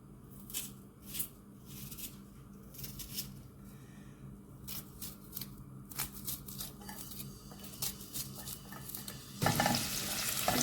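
Onion fries in fat with a soft, steady sizzle, punctuated by scraping stirs, and the crackle grows brighter and louder near the end.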